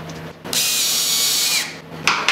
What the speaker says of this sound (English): As we're drilling them through,